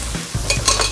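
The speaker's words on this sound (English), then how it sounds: "Let's get our onions on to fry." Onions fry in a pan for a lasagne bolognese, a loud, close sizzle broken by brisk stirring scrapes of a utensil against the pan in one short burst.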